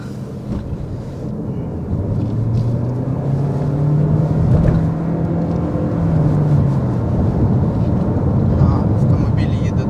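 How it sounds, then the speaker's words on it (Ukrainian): A 2024 Toyota C-HR GR Sport hybrid with all-wheel drive and an electric motor is driven, its engine hum rising and falling steadily under a person talking. "Автомобіль їде дуже яскраво."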